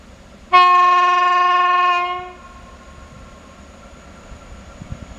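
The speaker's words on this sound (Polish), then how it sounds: "jedzie jakiś towar od strony tunelu" A freight train approaching a station platform from the direction of a tunnel blasts one loud, sustained horn note lasting about a second and a half, then quieter rolling rumble follows.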